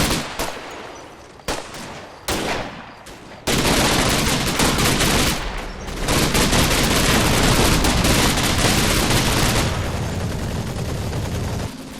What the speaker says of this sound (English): As you can hear, our aircraft makes its presence felt yet again by turning its formidable firepower